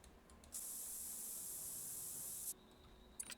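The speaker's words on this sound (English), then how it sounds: "There we go, scent spray on." Scent spray hisses from a can in the hunting game theHunter: Call of the Wild, one steady, loud, bright burst lasting about two seconds against quiet game ambience, followed by a faint click.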